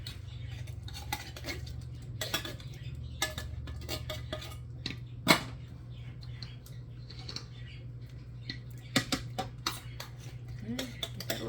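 A spoon scrapes and taps against a can as it scoops out cannellini beans, giving irregular metallic clicks and clinks over a low steady hum, with some quiet speech.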